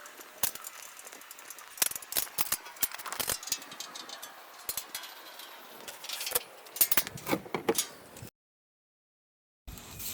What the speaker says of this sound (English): Use this 7/16 wrench to get these tightened up.